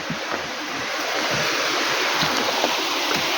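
Water from a stream below a waterfall rushes in a steady, broadband wash, close and continuous with no voices.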